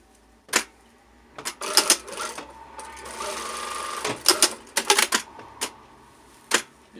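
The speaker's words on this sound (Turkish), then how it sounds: "Şimdi iki kenarını dikelim." A sewing machine stitches the edges of a curtain in short bursts of rapid mechanical clatter, separated by sharp clicks and pauses, close and fairly loud with no talk.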